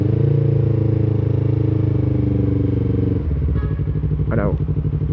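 A motorcycle rides through chaotic traffic, its engine droning loud and close before shifting to a lower, pulsing note, with a brief horn-like tone near the end and a voice talking.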